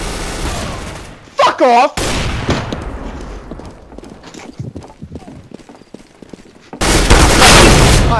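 Gunfire from a CS:GO match on the Inferno map cracks in short bursts between stretches of quieter game noise, with a loud sustained barrage at the end as players talk and shout over it.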